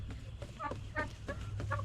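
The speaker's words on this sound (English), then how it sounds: "Oh, I just love turkeys." A farmyard turkey gives a series of short, nasal clucks and chirps at irregular intervals, moderately close against a steady low background hum, with no talking.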